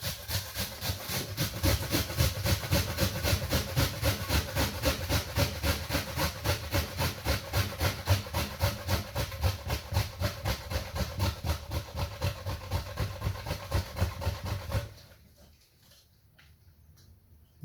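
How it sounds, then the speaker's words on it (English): An onion is grated by hand for Jamaican brown stew chicken, with fast, even rasping strokes repeating close and steady for about fifteen seconds before the scraping abruptly stops. "So normally when I do with my onion, I just grate it up."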